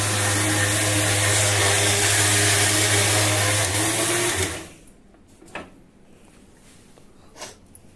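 A mixer grinder grinding a wet coconut mixture, a loud steady motor whir for about four seconds that then cuts off, leaving a quiet room with a few faint knocks.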